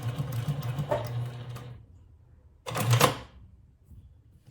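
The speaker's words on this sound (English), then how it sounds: "As you can see, we finished stitching, making the pockets" A sewing machine back stitches pockets on a fabric hobo bag in two short mechanical bursts separated by a pause, close and moderately loud.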